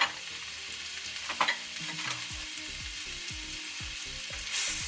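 Butter sizzling in a hot pan as an egg is being cooked, a continuous close crackle with a run of rhythmic low knocks and scrapes from the pan partway through.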